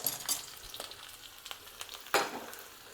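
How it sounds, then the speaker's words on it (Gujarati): Tempering of green chillies and curry leaves sizzling in oil for potato dhokla, a faint crackling sizzle with a few sharper spits and a louder pop near the end. "ગેસની ફ્લેમ બંધ કરી દેશું અને તરત જ તૈયાર કરેલો વઘાર આપણે"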